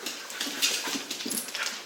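Excited Goldendoodle dogs whimper and whine close by in short, repeated high-pitched bursts, with some faint scuffling and panting between the cries.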